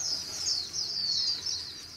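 A male Japanese white-eye caught in a fine mist net gives rapid, high-pitched chirping and twittering, fairly close and sustained for the whole two seconds, with no other sounds around it.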